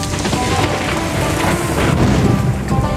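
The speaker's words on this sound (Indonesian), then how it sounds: "hujan turun deras sekali." Heavy rain pours down at a cemetery, a loud, dense and continuous wash of falling water with low booming rumbles underneath and no voices.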